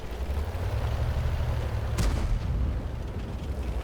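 A single heavy tank cannon shot from a Tier VIII heavy in World of Tanks booms once at mid-clip, a sharp blast over a steady low engine rumble that continues alone afterward.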